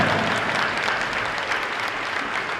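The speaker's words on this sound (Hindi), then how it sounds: "Clap for each other." Church congregation at a bilingual Hindi-English sermon clapping for one another, a thick continuous round of applause that stays loud and even throughout.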